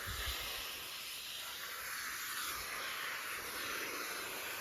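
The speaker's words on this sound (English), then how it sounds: "Massi is cleaning the kayak. Just rinsing it down." Steady broadband hiss of a hose spraying water to rinse down a kayak on a bright day, continuous and fairly loud with no talking.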